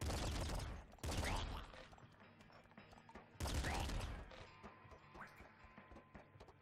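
Triple machine gun in the video game Nuclear Throne firing in loud, dense rapid bursts with a brief break between them, close and harsh, with electronic game effects trailing after.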